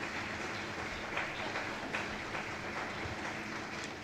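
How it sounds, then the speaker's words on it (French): Sustained audience applause for two authors at a book event, a steady dense patter of clapping from a crowd throughout, with no voices over it. "And maybe you can continue clapping for a moment"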